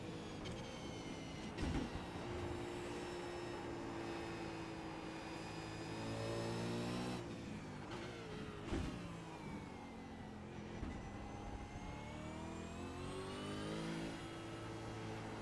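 On the Phillip Island race track, a car engine revs hard through the gears, its rising pitch climbing and dropping with each shift, heard from inside the car at a moderate, steady level.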